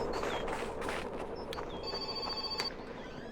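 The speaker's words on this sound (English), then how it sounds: "Phone's ringing, phone's ringing" A telephone rings in My Winter Car, a trilling bell tone repeating over a steady background hum, with no one talking over it.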